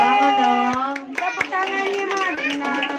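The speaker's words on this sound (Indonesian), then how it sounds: "Tepuk tangan dong" Guests clap at a children's birthday party with a clown, a scattered burst of hands under a speaking voice and chatter, close and fairly loud.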